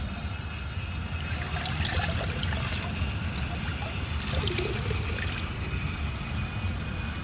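A vintage 1988 Artesian Atlantis toilet flushes with a steady, moderately loud rush and gurgle of water that runs without a break throughout.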